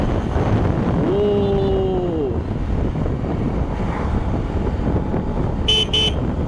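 Horn of a motorcycle sounding once in a short tooting blast while riding, over constant wind rush and road noise, followed by a couple of brief high clicks.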